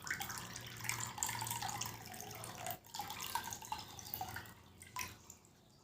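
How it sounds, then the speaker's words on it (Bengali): Water being poured through a kitchen sieve into a bowl, a soft trickling and dripping stream with brief pauses, fairly quiet and close, no talk. "এবার আমি এই জলটা ছেঁকে নিয়ে নিচ্ছি এই বাটির মধ্যে।"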